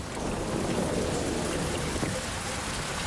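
Steady, dense rain pours down continuously, a broad hissing wash of drops with no voices, constant in loudness throughout.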